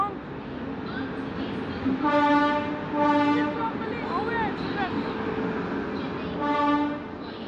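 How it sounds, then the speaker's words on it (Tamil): An Erode express passenger train arrives at a station, sounding repeated loud horn blasts over a steady rumble of rolling coaches. People talk nearby. "எக்ஸ்பிரஸ் வந்தாச்சு"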